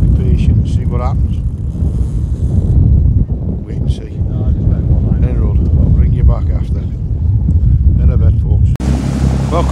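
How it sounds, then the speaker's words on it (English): Strong wind buffets the microphone in heavy, continuous rumbling gusts while people talk over it during sea fishing. "It's been bloody windy today"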